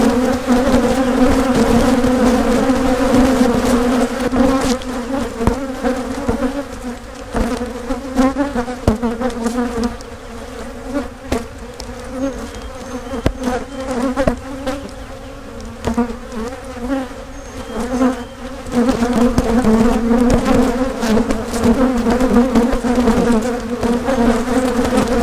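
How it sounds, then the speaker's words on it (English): Honey bees buzz loudly and continuously close by while a hive is split, a dense droning hum that swells and dips with the colony's activity throughout. "I'm going to give them some nurse bees."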